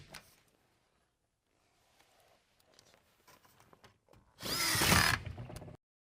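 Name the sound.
power drill driving screws into steel siding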